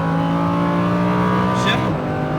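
A Lamborghini Huracan on a racetrack accelerates at full throttle, its engine a loud, rising, tonal roar heard from inside the car, with a brief hissing burst near the end as it shifts.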